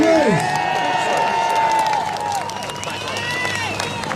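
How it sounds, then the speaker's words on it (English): A crowd at a rally outside Parliament House in Melbourne applauds and cheers, steady dense clapping with shouts and raised voices throughout, fairly loud and close. "Give another round of applause for Dr."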